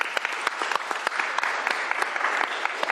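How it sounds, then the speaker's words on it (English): Guests at a governor's bill signing clap for a state senator, a moderate room of applause with distinct individual claps popping out over a steady wash, close and fairly light. "Give a round of applause for Senator Chapman and his hard work."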